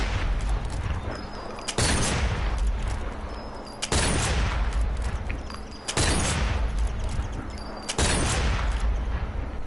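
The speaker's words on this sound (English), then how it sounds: "Next gun, Karabiner 98K, better known as the Kar 98K, German rifle" A German Karabiner 98K bolt-action rifle fired in Sniper Elite 4 on a firing range: five loud, sharp single shots spaced about two seconds apart, each with a decaying echo tail.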